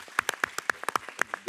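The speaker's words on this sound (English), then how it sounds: "I want to just give a round of applause to our moderator." A small audience claps for a panel moderator at the close of a research discussion: sparse, quiet, separate hand claps at an uneven rhythm, with no voices.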